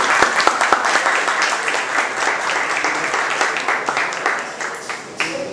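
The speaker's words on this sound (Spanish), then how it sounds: "Un aplauso." An audience at a panel on racism in the Dominican Republic gives a sustained burst of applause, dense overlapping claps filling the room throughout, fading slightly at the end.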